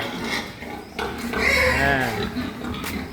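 Fattening pigs grunting and oinking in a farm pen, a busy cluster of close grunts and squeals with some clattering of metal in the background, and people talking nearby.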